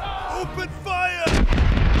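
A ship's cannons fire in a video game: a voice speaks briefly, then a heavy, loud boom bursts in and rumbles on through the end.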